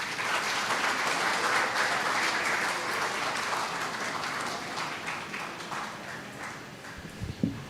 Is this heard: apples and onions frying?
no